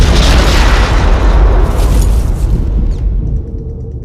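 A massive battlefield explosion from the Omaha Beach landing scene in Saving Private Ryan: a loud, deep rumbling boom with broad debris noise that sustains for a few seconds before fading and thinning out.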